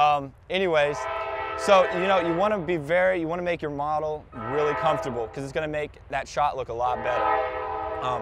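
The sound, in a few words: train horn passing nearby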